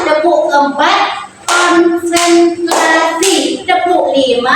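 A classroom group claps in a counted rhythmic pattern, loud and close, with children's voices chanting in time between the bursts of claps.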